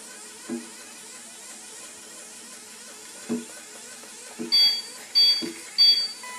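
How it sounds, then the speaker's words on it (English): Disney Store swimming Nemo toy from Finding Dory gives off short, faint electronic beeps, a few high tones spaced near the end, with soft handling taps before them and no talking. "It just made a beeping noise."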